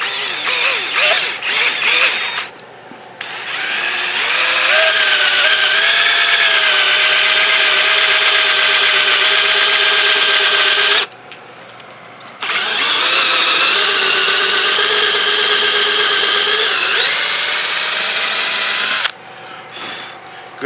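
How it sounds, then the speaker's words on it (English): A power drill drilling into acrylic whines steadily in long bursts, stopping briefly twice, close and loud with a high-pitched grinding tone. "make sure you keep your drill level so it doesn't go in at an angle like this"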